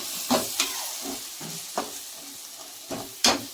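Chili powder fries in hot oil in a pan for Andhra-style fish curry, a soft continuous sizzle punctuated by several sharp spoon scrapes and stirs at uneven intervals.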